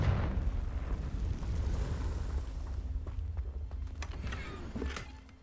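The Confringo fire spell blasts rocks in Hogwarts Legacy, a loud booming explosion at the start that rumbles and crackles as debris settles, fading away over several seconds.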